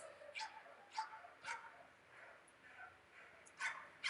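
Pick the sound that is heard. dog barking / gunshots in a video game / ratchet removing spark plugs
dog barking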